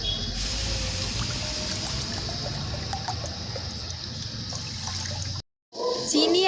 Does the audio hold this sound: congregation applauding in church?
no